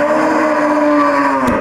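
A cow being offered for sale gives one long, loud, close moo that holds steady before tailing off.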